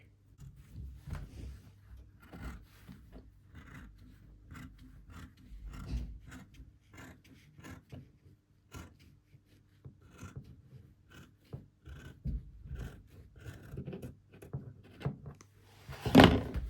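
Scissors cut out a round-neck fabric facing in a series of soft, irregular snips and rustles up close, with fabric shifting between cuts and no voices.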